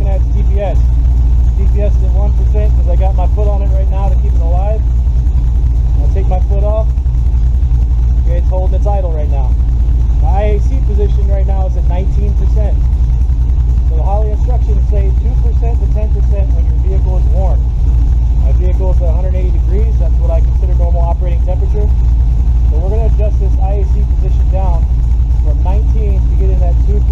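A car engine fitted with Holley Terminator X Max fuel injection idles with a loud, steady low rumble throughout while someone talks over it.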